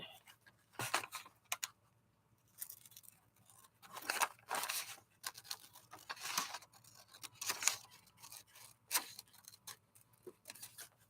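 Scissors cutting paper along a line for a craft project, a series of close, crisp snipping crunches in irregular bursts separated by brief quiet pauses.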